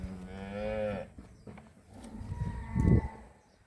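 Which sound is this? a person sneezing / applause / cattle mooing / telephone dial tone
cattle mooing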